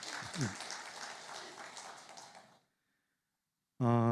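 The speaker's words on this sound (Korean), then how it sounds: "이 시간에 축복의 박수 한번 해주시면 좋겠습니다" A church congregation claps in blessing during a Sunday worship service, a dense patter of hands that runs for about two and a half seconds before stopping, followed by silence and then a voice.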